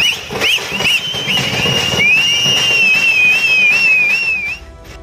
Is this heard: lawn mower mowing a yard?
no